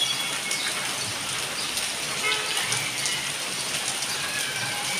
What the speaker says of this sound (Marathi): पाऊस चाललाय आमच्या इकडं एकदम जोरदार, कालपासून तर एकदम जास्त चाललंय